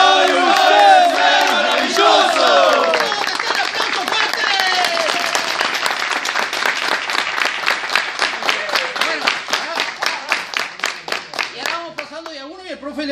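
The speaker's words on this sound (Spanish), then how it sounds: "¡Vamos a hacer aplausos fuertes!" A crowd at an end-of-course comedy event shouts and chants together, then breaks into loud, evenly timed rhythmic clapping that carries on steadily, with voices still audible over the claps near the end.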